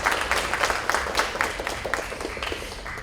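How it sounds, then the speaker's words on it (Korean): Full hall of audience applause at an international broadcasting forum, dense steady clapping from many hands throughout, close and fairly loud. "특별 강연해주신 젤리카님께 다시 한번 감사의 박수 올려드리겠습니다"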